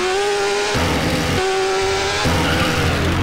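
Car tires skid and squeal in GTA San Andreas, a loud continuous screech over engine drone with pitch steps as the vehicle slides.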